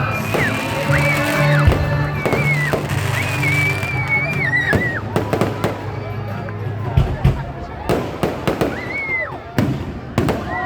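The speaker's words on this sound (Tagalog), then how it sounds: "nararamdaman na natin ang mga fireworks dito sa Malabon Welcome Park" Fireworks pop and crackle outdoors at Malabon Welcome Park during a December Christmas tree lighting in Malabon City, with sharp bursts, whistles and a string of rapid cracks toward the end over a noisy, cheering crowd and an announcer's voice.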